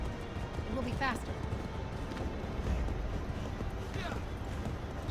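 Horses gallop in Assassin's Creed III, Tyranny of King Washington. Rapid hoofbeats clatter steadily under a dense, noisy game soundscape.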